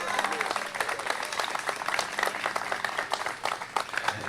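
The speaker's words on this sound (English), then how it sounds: "Let's give them a round of applause." Crowd claps at an outdoor groundbreaking ceremony for a Vietnam War memorial in Piedmont Park, Atlanta, honoring Vietnam veterans; scattered, moderately loud applause runs throughout with a voice over it.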